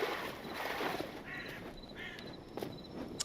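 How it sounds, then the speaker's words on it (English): Crows caw in a video game, a few short harsh calls spaced apart over a faint ambient bed, moderately distant. "And the crows sound so good in this game."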